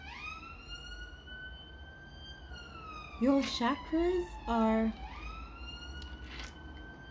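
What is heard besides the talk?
siren in the background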